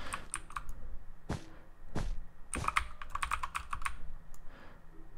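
Keys on a mechanical keyboard clack in irregular bursts during a Bedwars game, sharp close taps with a few heavier thumps, quiet and alone without talk.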